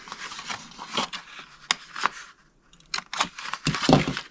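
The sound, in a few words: cutting cardstock flap for a chocolate bar box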